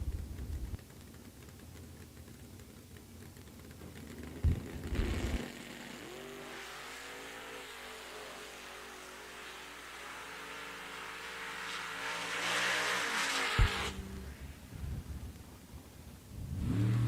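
Dragsters race down a drag strip at Eddyville Raceway Park during a bracket event, engines rising into a long rough roar at moderate distance that swells and fades, with a sharp bang near the end.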